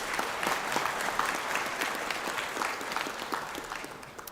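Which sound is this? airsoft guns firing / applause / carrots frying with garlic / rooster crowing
applause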